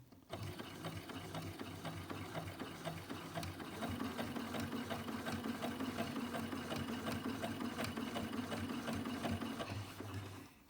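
A sewing machine runs steadily, stitching together the top and bottom of a fabric mask, a close continuous mechanical whir with rapid needle ticks that speeds up slightly midway.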